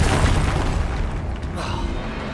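Confringo blasting spells bursting in the Hogwarts Legacy game, a dense barrage of booming explosions with heavy low rumble throughout, mixed with combat effects and game sounds at steady high loudness.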